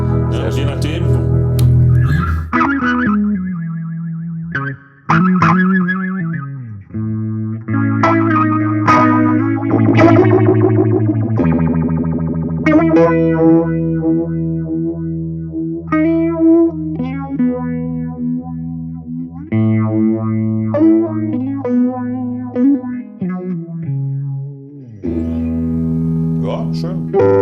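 An electric guitar runs through a Tone City phaser/modulation effect pedal, strummed chords and melodic runs swirling with a sweeping, slightly distorted modulated tone. The guitar plays continuously and fairly loud, with some talking mixed in.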